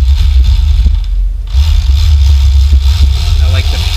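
Electric fillet knife motor buzzing steadily while cutting through a perch, a continuous loud low drone that eases briefly and then resumes, with short clicks along the way.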